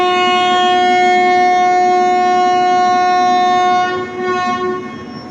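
A loud, sustained train horn blares steadily over rail rumble, then tapers off as the train gets moving.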